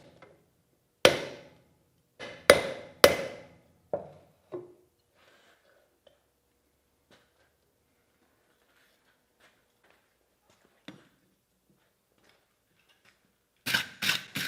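A hammer flattens a steel billet during forging of a seax blade. A cluster of sharp, ringing blows lands up close, followed by long near-silence with a lone strike, then a fresh burst of rapid hits.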